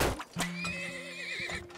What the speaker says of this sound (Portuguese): Mais um cavalo.